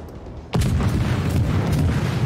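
A single loud, booming cannon blast from a video game erupts abruptly, followed by sustained rumbling noise and crackling.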